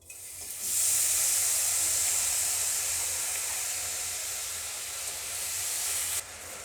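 Gas stove burner lit under jaggery being heated, giving a steady close hiss that starts abruptly, holds evenly for several seconds and then cuts off, with no talk.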